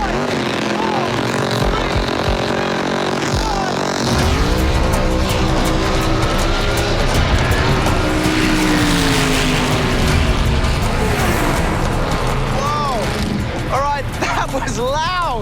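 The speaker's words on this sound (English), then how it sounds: "My dragster's staging its burnout right now. He's warming up and it's incredibly loud." A drag racing car performs a staging burnout at a race event, its engine revving loudly with sustained roaring and tire squeal, continuous and close throughout, with people's voices faintly mixed underneath.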